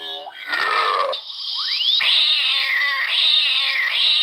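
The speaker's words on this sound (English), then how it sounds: "Did you hear the pussy cat that I keep stepping on?" A squeaky toy cat gives off a run of high, rising and falling meow-like squeals each time it is stepped on, loud and close, with no talking over it.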